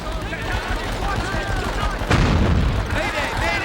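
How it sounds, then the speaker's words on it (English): Mounted gun firing in an Xbox shooter shown at E3 2004, a steady rattle of automatic bursts with a heavy boom near the middle, mixed with game voices and action noise. "Get on that gun and put out rounds."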